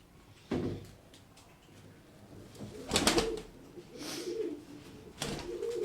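Dolapçı pigeons coo in a loft in a few soft, low, throaty bursts, close by, with faint bumps and rustles in the background.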